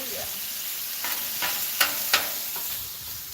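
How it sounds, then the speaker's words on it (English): Meat searing on both sides in a hot pan, a soft continuous sizzle broken by a few sharp utensil taps and scrapes. "Sear it both sides and pull it off."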